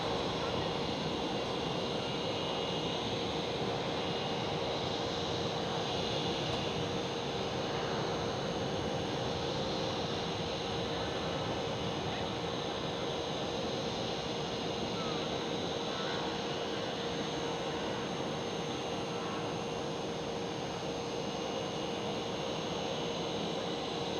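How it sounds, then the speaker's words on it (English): A KLM Queen airliner departs from Schiphol Amsterdam, a steady distant jet roar and rumble that holds evenly throughout with no other clear sounds. "There goes the KLM Queen."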